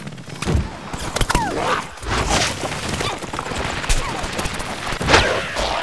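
Gunfire in the Plants vs. Zombies: Garden Warfare shooter game, a busy stream of popping shots and impacts with whooshing effects, loud and continuous throughout, with a player's voice in places.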